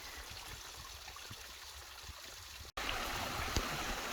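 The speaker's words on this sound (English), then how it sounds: "It's mini waterfall time." A small waterfall on a bush hiking track during a heatwave, heard as a steady, moderately close rush of falling water that grows louder and fuller partway through, with no voices.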